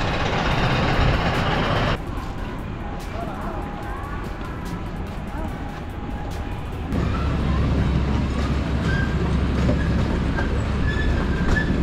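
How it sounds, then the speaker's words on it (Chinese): A small Alishan-style tourist train at Window on China theme park in Longtan, Taoyuan, rumbles along its track with a steady rolling clatter and faint wheel squeals as people chat nearby. "阿里山小火车哎"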